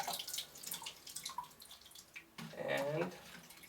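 Film developing solution in about 600 milliliters of clean water is swished around, giving soft sloshing and dripping water sounds, close and fairly quiet, with a louder swirl near the end.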